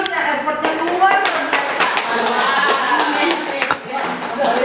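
Classroom clapping for a teacher after a lesson-study demonstration lesson, a scattered patter of hands running steadily under voices talking over it.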